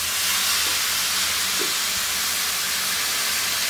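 Chopped tomatoes go into hot oil with chilies that were fried first, for a hotel-style Bengali tomato bharta. A loud, steady sizzle and hiss runs unbroken from start to finish.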